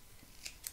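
Scissors snip a doll's hair in two quick, crisp, close cuts a fraction of a second apart against a faint quiet background.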